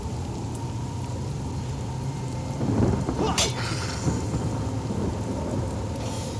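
Rain and thunder from a spell in the video game Divinity: Original Sin Enhanced Edition: steady rainfall, a rumbling thunder roll with a sharp crack, then continued rain.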